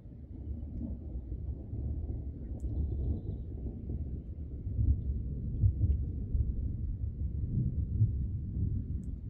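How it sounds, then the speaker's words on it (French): Deep, continuous low rumble of thunder during a moderate thunderstorm in Isère, rolling on for several seconds with swells in loudness and no voices. "En soi, l'orage est pas si méchant que ça."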